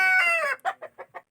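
Young roosters (stags), about six months old and of an oriental game-fowl cross, cluck close by in a rapid run of five or six short calls after a longer crowing-like opening cry.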